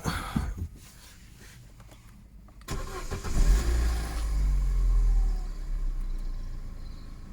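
A car engine cranks briefly and catches, then settles into a loud, steady low rumble as it idles.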